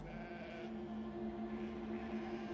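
A goat bleats in one steady, wavering, drawn-out cry that stays at an even loudness throughout, with no voices.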